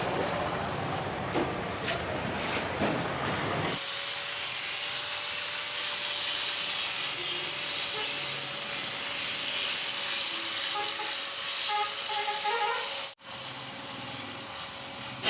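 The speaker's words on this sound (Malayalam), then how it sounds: "ഇത് ഗ്ലാസ് ഗ്രൈൻഡ് ചെയ്യുന്ന വീലാണ് ഈ ഒരു ഗ്രൈൻഡിങ് വീൽ ഉപയോഗിച്ചിട്ടാണ് ഗ്ലാസിൻ്റെ എഡ്ജ് ഗ്രൈൻഡ് ചെയ്യുക" A grinding wheel works the edge of a glass mirror with a continuous close mechanical whir and a steady tonal hum, preceded by a few seconds of rougher clattering.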